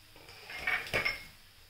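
A lid comes off a pan of zunka, a spiced gram-flour dish with coriander, giving two light metallic clinks close by. The sound is fairly faint against quiet kitchen background, with no voices.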